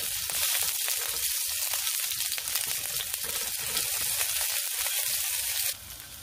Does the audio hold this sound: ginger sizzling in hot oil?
yes